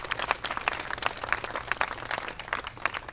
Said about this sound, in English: Please give them a round of applause for being part of this vision also.